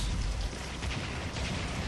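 Rain sound effect behind a Hindi audiobook narration of The Woman in Black, a dense steady hiss of rainfall with low rumbling underneath, continuous and fairly quiet with no speech.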